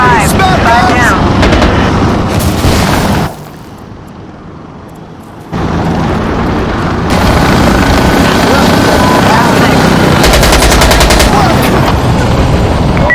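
Rapid gunfire in Insurgency Sandstorm crackles in dense, loud bursts over a continuous engine-like roar in a snowy map, with a brief quieter gap midway and players talking over the action.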